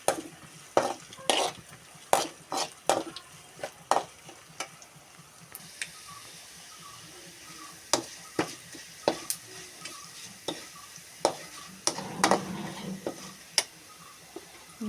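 A lump of asafoetida fried in oil for pepper rasam, with a low sizzle under a run of sharp, irregular clinks and scrapes as a spoon stirs the pan, some strokes close together, others spaced out, and no talking.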